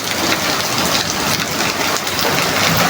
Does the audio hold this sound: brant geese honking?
no